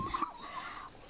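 A chicken gives a short, nearby cluck and a quick warbling call, brief and fairly quiet, among chickens and ducks.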